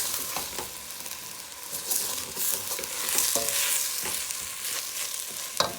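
A spoon stirs salt through brown stew chicken in a pot, scraping and clinking over a soft steady sizzle. The strokes come close and irregular, with a sharper knock near the end.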